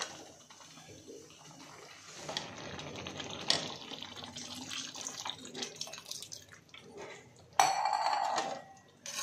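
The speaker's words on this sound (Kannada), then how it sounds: "ಈಗ ನಾನು ಇದಕ್ಕೆ ಇನ್ನೂ ಸ್ವಲ್ಪ ನೀರು ಹಾಕ್ಕೊತಾ ಇದ್ದೀನಿ" Water poured into a pot of thick rajma (kidney bean) gravy, a quiet trickling and splashing with a few light clinks of the pot, rising to a brief louder gush near the end.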